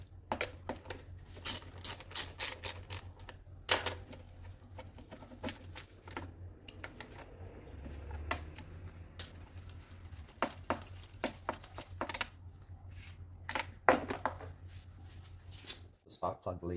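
A ratchet clicks in quick, close bursts as it backs out 10mm bolts from the engine dress cover of a Mitsubishi Magna. Separate runs of clicking come with light metal taps, and someone talks now and then.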